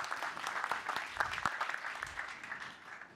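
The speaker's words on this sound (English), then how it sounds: "Big round of applause, please." A tech conference audience applauds at the close of a microservices talk, with sharp individual claps standing out at first and then easing into a softer, thinning patter.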